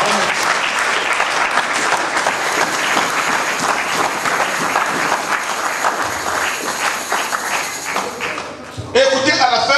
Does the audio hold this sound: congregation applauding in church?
yes